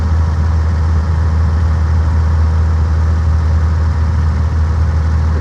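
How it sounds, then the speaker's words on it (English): A steady, low rumbling drone from an old antique car's engine turning over slowly at low rpm, smooth and unbroken with faint vibration and no other sounds on top. "The engine's about as quiet as it can be right at this RPM"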